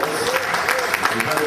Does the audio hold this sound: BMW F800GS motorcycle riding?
no